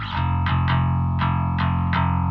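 A heavily distorted 808 bass, with its sub lows EQ-rolled off below about 200 Hz, plays a loud, buzzing sustained line that retriggers in several sharp note attacks, harmonically rich and gritty, with no voices.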